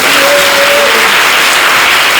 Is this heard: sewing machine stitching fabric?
no